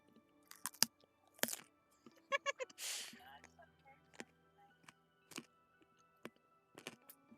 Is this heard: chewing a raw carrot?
yes